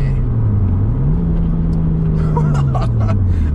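A loud, close Nissan R33 Skyline GTS-T engine with a Tomei titanium exhaust drones steadily, its pitch rising and then falling back, with a few faint voices and chuckles in the background.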